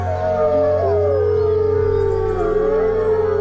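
A chorus of wolves howls together, several long, wavering voices overlapping and sliding in pitch over a steady low drone, sustained and fairly loud throughout with no talking.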